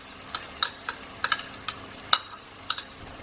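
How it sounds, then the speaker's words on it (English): A spoon stirs yogurt into a thick curry masala on low heat for an Indian chicken meatball kofta curry, with a soft sizzle under a string of sharp metallic clinks and scrapes, close and without speech. "So I mix that yogurt through."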